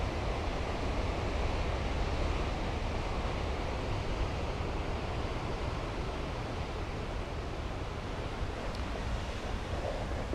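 Ocean waves wash through shoreline rocks in a steady, dense roar of surf blended with wind, loud and continuous with no breaks.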